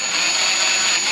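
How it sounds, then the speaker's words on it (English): A power drill boring a small pilot hole during installation of a CTS V conversion kit on a CTS V Sport, a steady high whine held continuously and close, with no talk. "we'll drill through"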